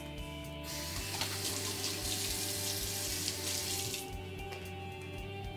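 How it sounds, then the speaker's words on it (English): Water runs steadily from a kitchen tap while hands are washed, a soft continuous splash into the sink under a faint low hum, stopping abruptly near the end. "I'm just gonna wash my hands."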